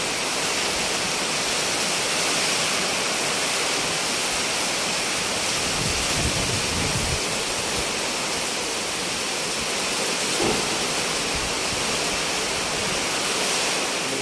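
Typhoon Aghon's wind blows hard and without pause, a loud dense rushing roar like a waterfall, with low rumbling buffets now and then and no one speaking.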